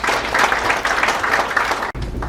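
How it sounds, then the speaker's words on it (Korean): Audience applause welcoming a guest speaker, Dr. Joo, at the launch of the Korean American association's Atlanta chapter: a brief, dense burst of clapping from a sizeable crowd that cuts off sharply near the end. "박수로 환영해 주십시오."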